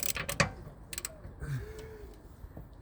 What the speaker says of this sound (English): crack open like the bolts here, the wheel bolts